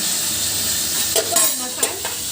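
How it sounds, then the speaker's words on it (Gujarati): Cumin, asafoetida and mustard seeds sizzle loudly and steadily in hot oil in a small pan, with a few brief clinks and scrapes of stirring on top. "એમાં જીરું, હિંગ અને રાઈ આપણે આને નાખી દઈશું."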